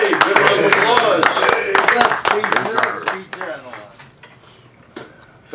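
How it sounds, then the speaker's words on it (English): An audience at a lecture event gives a round of applause, sharp clapping mixed with voices that thins out and fades to scattered claps near the end. "Give a round of applause."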